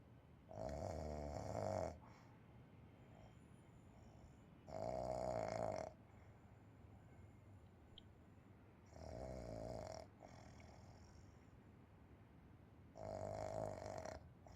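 A woman snores in the video game Unheard, four heavy rasping snores at regular intervals about four seconds apart, loud and close, with quiet breathing lulls between them.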